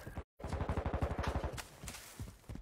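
Rapid automatic gunfire rattles in a tight, steady burst during a hardpoint match in a video game, broken by a brief cut of silence and followed by a few scattered shots.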